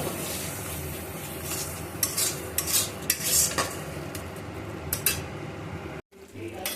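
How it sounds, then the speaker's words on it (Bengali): Potatoes being stir-fried in oil with a spice paste in a home kitchen: a sizzling hiss under repeated bursts of metal spatula scraping and clinking against the pan, close by. "এবার আমি আলুগুলো দিয়ে দেবো আলুগুলো দিয়ে একটু কষাবো"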